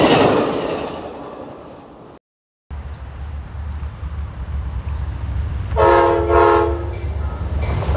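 A BNSF train rumbles past in the early morning, a loud steady roar of rail cars with a short burst of horn blasts sounding partway through.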